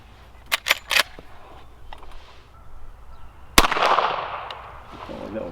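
A Henry Model X lever-action rifle chambered in .38 Special fires a single sharp shot that rings out and decays, preceded by a few quieter mechanical clicks and handling noises.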